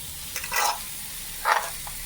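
Chicken fried rice with shrimp, eggs and vegetables is tossed in a pan, giving two short bursts of sizzling and stirring over a quiet background.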